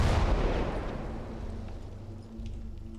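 Artillery barrage in the WWII strategy game Gates of Hell: Ostfront, heard as a dense, continuous rumble of deep booms and crackling impacts, loudest at the start and slowly easing over a few seconds, with no speech.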